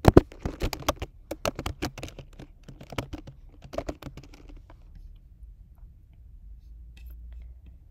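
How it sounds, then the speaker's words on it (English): An email address is typed on a computer keyboard in quick, close, clicking bursts of keystrokes that slow and then stop, leaving a quiet room tone. "So if I start typing in an email address for the person"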